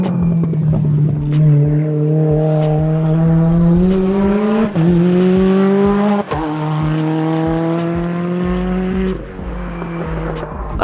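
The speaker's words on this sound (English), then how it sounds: "In fact, the car's about to come right now." A drift car sweeps past on a track, its engine howling at high revs with rising and falling pitch, long tire squeal layered over it, loud and close for the whole stretch.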